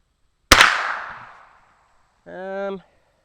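A single sharp report from a Glenfield Model 10 single-shot rifle, a loud close crack with a ringing tail that fades over about a second, followed after a pause by a brief voice.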